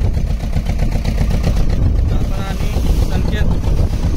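A fishing boat motor drones steadily and loudly as the boat heads out for trolling, a continuous close rumble with wind buffeting throughout.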